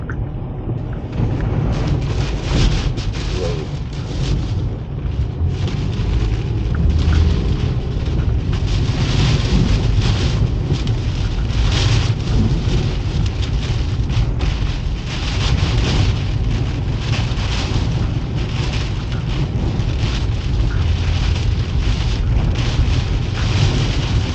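Storm wind from Storm Ciaran batters a lighthouse on the Guernsey coast, a continuous loud roar with buffeting gusts and rumbling microphone wind noise that hardly lets up.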